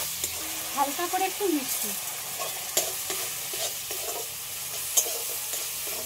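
Spice masala fried lightly with a splash of water for a rice dish, sizzling close up under repeated stirring scrapes of a spoon against the pan, while someone briefly talks over it.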